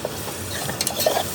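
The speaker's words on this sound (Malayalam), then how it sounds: "ഇനി ഈ ടൊമാറ്റോ പ്യൂരി ആ മസാലയിൽ കിടന്ന് നന്നായിട്ട് അങ്ങ് വേവട്ടെ." Tomato puree frying in biryani masala in a pan, a steady soft sizzle with faint stirring scrapes, close and continuous with no voices.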